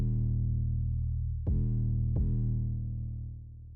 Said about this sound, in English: you're going to notice a lot of distortion when it happens